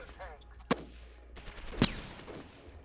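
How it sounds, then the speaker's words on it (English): Rockets launching in the Shadow Empire strategy game: two sharp, cracking bursts about a second apart over a low hum and faint game noise. "So I will shoot off some rockets."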